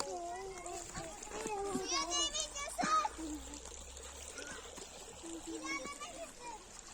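Children splash in a creek, bursts of water sloshing and splattering amid excited kids' voices and shouts throughout.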